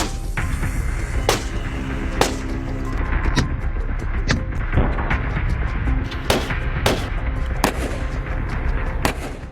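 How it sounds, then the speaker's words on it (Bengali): Sharp test gunshots strike a bulletproof Mercedes car, about twenty loud cracks in an irregular series, some spaced apart and some close together, over a steady rumbling background with no speech. "শেখ হাসিনার একই মডেলের মার্সিডিজ গাড়িতে পরীক্ষামূলকভাবে গুলি করার একটি ভিডিও"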